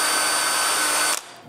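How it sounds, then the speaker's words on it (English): A power drill bores a hole in wood for a kayak build, a loud steady whine held for about a second before cutting off abruptly, with no talk. "So I drill one hole in each corner."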